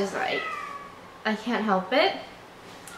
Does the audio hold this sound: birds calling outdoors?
no